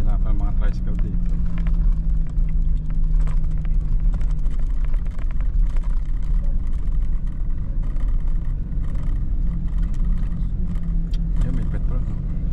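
A motor tricycle engine runs steadily on a mountain road from Cervantes, Ilocos Sur to Bontoc, Mountain Province, a constant low rumble heard from on board, with people talking over it.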